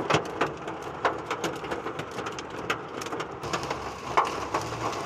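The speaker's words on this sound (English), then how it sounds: "I'm in a major hail core with major rotation." Hailstones pound a car during a tornadic supercell storm near Osage and Lake of the Ozarks, Missouri: a dense, irregular clatter of sharp impacts with no voices.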